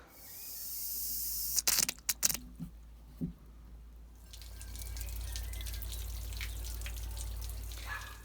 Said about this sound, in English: That's the towel radiator in the bathroom. So I'm going to bleed that now.